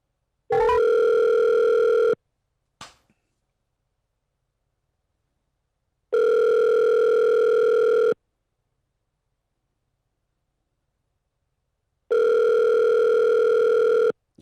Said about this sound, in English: Hold on, let me call this caller.